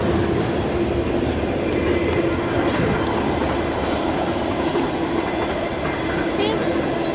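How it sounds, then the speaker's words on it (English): A train rumbles past close by, a loud continuous roar with rattling wheel noise that fills the whole stretch, with a voice faintly present underneath. "Train passing by."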